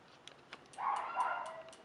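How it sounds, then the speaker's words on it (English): A dog in the background of a workshop gives a short, faint, wavering howl, rising and falling for about a second after a few light ticks and clicks, with no voices. "you can probably hear my dog singing to me in the background"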